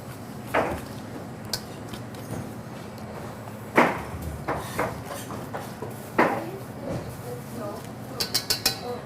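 Dry ingredients including oats, oat flour, salt and brown sugar being stirred in a bowl while sugar clumps are broken up, with scattered soft scrapes and a few sharper clinks of a utensil against the bowl, some quick taps near the end.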